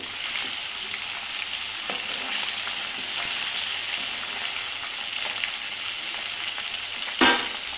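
Tilapia fish frying in a pan over a low flame, a steady close hiss and crackle of oil throughout, with a brief sharper sizzle flare near the end.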